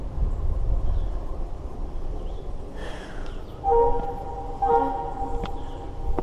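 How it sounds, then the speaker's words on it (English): A distant train near Machu Picchu, Peru rumbles faintly, with a couple of long horn blasts sounding from far off over a low background hum. "You can hear the train off in the distance there."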